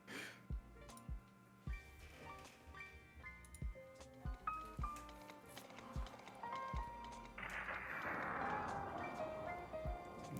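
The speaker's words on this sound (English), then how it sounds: "The horse gallop, the lightning sound effect." A song opens with rhythmic horse-gallop hoofbeats over sustained tones, then a broad thunderous rumble swells in as the music builds.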